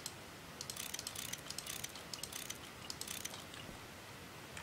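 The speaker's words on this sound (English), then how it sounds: "Just wrench all these ones over first." Quick rattling mechanical clicks from wrenching blocks in a modded Minecraft game, light and fairly quiet over a steady background hiss, coming in short irregular bursts.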